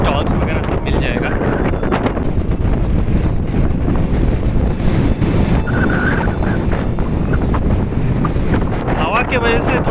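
Strong monsoon wind at Naneghat, Maharashtra, buffeting the microphone with a loud constant roar and rumble that fills the whole stretch, with a voice talking faintly beneath it.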